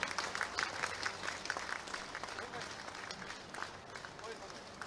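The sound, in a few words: audience applause at event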